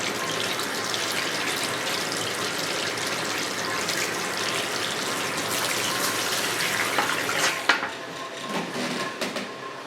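Steady running water rinses perm fluid out of hair wound on twisters, a continuous close splashing gush with small shifts and knocks near the end.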